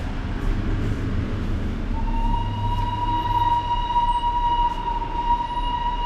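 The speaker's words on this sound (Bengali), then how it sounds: "সেই ব্যালকনিতে তোমরা দেখতে পাবে টয় ট্রেন যাচ্ছে। টয় ট্রেনটা ওই সাইডে যাচ্ছে।" The Darjeeling toy train passes nearby, a steady low rumble of rolling carriages with a sustained whistle-like tone joining partway through and holding to the end.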